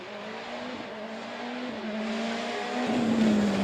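A Mitsubishi rally car's engine roars steadily at a rally, its pitch rising gradually as it accelerates, loud and close, with a faint tire squeal near the end.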